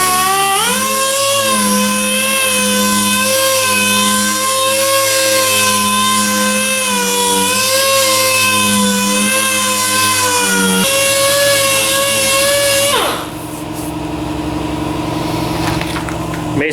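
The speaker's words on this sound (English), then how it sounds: "Basically just sand it until it's smooth," A plastic car bumper cover is dry-sanded with 500 grit using a steady, loud power-tool whir that holds a constant pitch for about thirteen seconds, then drops lower and rougher as it winds down near the end.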